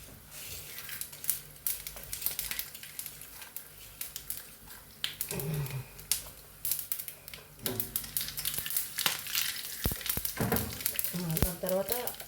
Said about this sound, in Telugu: ఇందులోకి ఇప్పుడు అన్నీ చిట్పట్ మిరియాలు, మెంతులు, చెక్క, లవంగ, జీలకర్ర, తర్వాత వచ్చి సోపు వేసుకుందామండి.